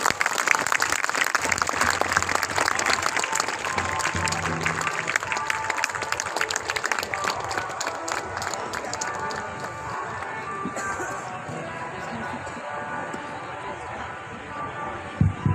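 An audience claps and cheers in a rapid, dense burst at an outdoor Republic Day ceremony, the applause loud at first and then tapering off, with voices over it.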